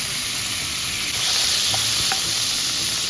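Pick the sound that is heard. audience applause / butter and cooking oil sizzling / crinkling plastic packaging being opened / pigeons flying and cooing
butter and cooking oil sizzling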